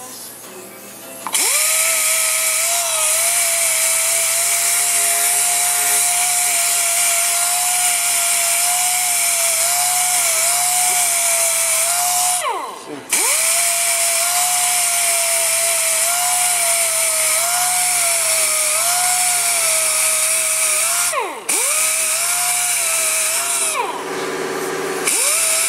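A pneumatic orbital sander works on foam, giving a loud, steady high-pitched air-driven whine that runs for long stretches, dips briefly twice when it slows or is lifted, and then resumes, with no voices.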